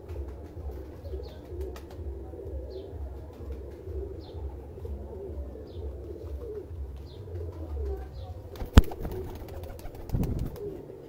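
Teddy pigeons coo in a steady, low, repeating rhythm close by, with faint chirps from other birds and a sharp knock near the end.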